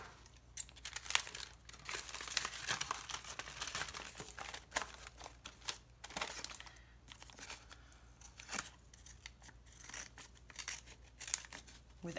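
Junk mail paper being trimmed by hand for a pocket folio craft: faint, close crinkling and rustling with quick snipping and tearing sounds in a quiet room, no talking.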